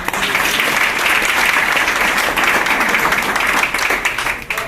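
Loud, sustained applause from an audience at an associate business meeting in a Noida office, dense and steady clapping filling the room for several seconds without a break.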